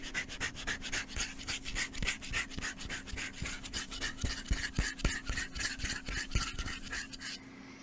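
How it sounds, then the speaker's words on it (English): A comb is dragged in quick rhythmic strokes across the surface of boots, giving soft close-up rasping scratches that repeat in uneven bursts, quiet and intimate with no talking. "I love me some good scratching sounds."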